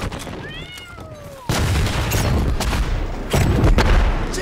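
Grenade explosion in an online shooter match, a heavy boom that cuts in abruptly and rumbles on, followed by a second loud blast after a short gap, both preceded by faint gliding whistle-like tones.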